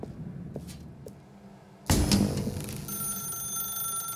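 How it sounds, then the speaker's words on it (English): A ringing telephone in the narrative game The Stanley Parable, starting abruptly after a quiet stretch and ringing on loudly and steadily to the end. "Now pick up the phone"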